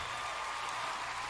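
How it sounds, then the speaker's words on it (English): An audience at the Video Game Awards cheers and applauds in a brief, dense wash of crowd noise, loud and sustained across the short moment. "That right there is the loudest cheer we're gonna hear"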